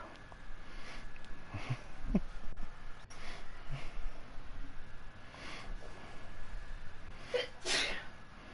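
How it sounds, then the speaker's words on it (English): A woman sneezes several times in a quiet room, short sharp bursts spaced irregularly with sniffs between them, fairly close but not loud. "She's sneezing right now because of the dog."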